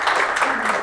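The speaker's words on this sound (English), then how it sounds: "So if we just finish up with a final round of applause for Chao." An audience gives a final round of applause for a presenter, a brief burst of many hands clapping at moderate loudness, dense and steady for under a second.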